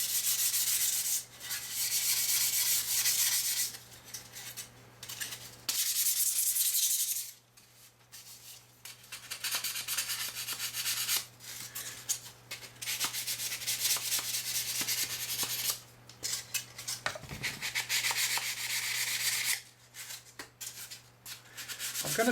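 Close, scratchy sanding strokes on the underside of a piece, coming in uneven bursts with short pauses between them.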